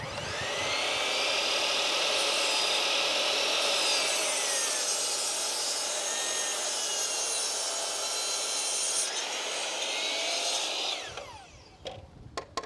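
A hand saw cuts a 45-degree angle through a wooden plank for table legs, rasping in steady back-and-forth strokes for about eleven seconds, loud and close, then stops. A few light knocks and scrapes follow.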